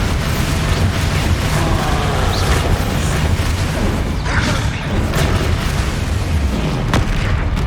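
Booming explosions from the Bombarda spell in Hogwarts Legacy go off amid a dense, continuous wash of loud battle effects with rumbling low end.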